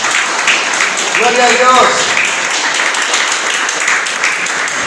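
A church congregation applauds during a Christmas sermon, steady crowd clapping and cheering at an even level throughout, while a voice shouts out a praise over the noise.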